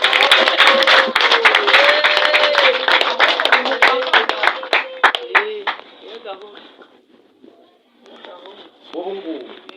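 A church congregation claps for Jesus in a quick, steady rhythm under loud singing and voices. The clapping stays dense for about six seconds, then thins out as the voices carry on.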